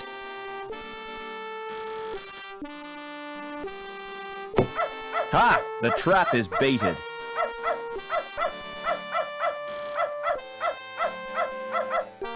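A dog barks in the video game Beneath a Steel Sky, a quick run of sharp, loud, regularly spaced barks over a sustained synth tone, with game characters speaking just before.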